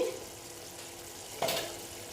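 Okra cooks in oil in a covered pan on low heat, a soft, faint sizzle and simmer heard close, with a brief louder burst of hiss partway through.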